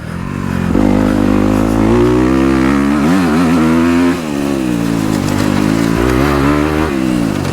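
A dirt bike ridden in third gear on a motocross track, its engine loud and close with a steady high-revving buzz, a brief wavering rev in the middle and a short dip before it climbs again.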